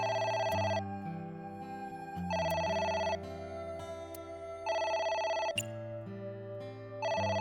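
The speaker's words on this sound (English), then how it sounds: "Yo, pick up the phone. It's the phone." Telephone in the video game AI The Somnium Files rings in four loud electronic bursts with pauses between them, set over a steady low music bed; no one speaks.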